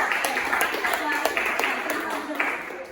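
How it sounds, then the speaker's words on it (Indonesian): Dense, steady clapping from a group fills the clip, with sharp individual claps standing out above a constant patter and a faint murmur of voices. "Tepuk tangan untuk Akbar."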